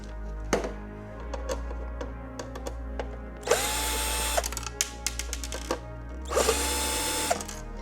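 A power drill backs screws out of the inner part of a fridge, with two loud whirring bursts between scattered clicks and taps of handling, close and with no talking.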